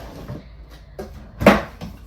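A pantry cupboard door opening inside a 2024 Forest River Cardinal 380BET fifth-wheel RV, giving a short close clatter with a soft knock just before it, heard alone with no talk.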